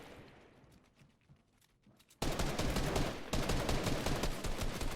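Fortnite gunfire erupts after a quieter lead-in, a sudden loud, dense stream of rapid shots that continues without letup to the end, with a brief break and restart partway through.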